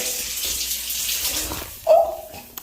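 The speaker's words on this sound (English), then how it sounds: "this joint shoots the water out" Tap water gushing hard from an apartment faucet in Las Terrenas, Dominican Republic, a steady loud splashing rush that continues throughout, with a short sharp burst near the end.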